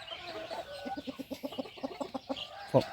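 A run of rapid, rhythmic clucking from young roosters, close and fairly loud, ending with a sharper squawk.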